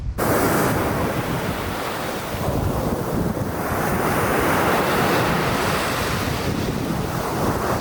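Sea waves on an Odessa beach roll and wash steadily at close range, a loud continuous surf mixed with wind buffeting the microphone, with no voices.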